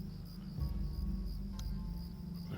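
Steady cricket chirping rings through a night scene in the game Lord of the Rings Online, a continuous insect trill with a low ambient hum beneath and no talking.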